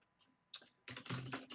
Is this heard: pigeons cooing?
no